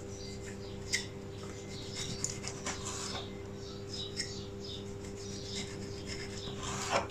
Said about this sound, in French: Maintenant, je découpe la tomate en rondelles.